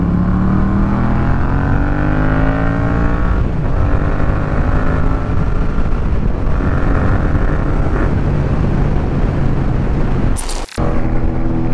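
A BMW S1000RR sport motorcycle being ridden, its engine rising and falling through several loud, close revving surges with pitch sweeping up as it accelerates, then a sharp brief burst near the end.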